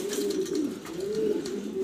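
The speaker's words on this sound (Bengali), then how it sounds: "দেখতেই পারতেছেন মাশাআল্লাহ টপ কোয়ালিটির রেসার কবুতর" Racer pigeons coo nearby in soft, rolling, low throaty calls that rise and fall continuously, with light bird chatter in the background.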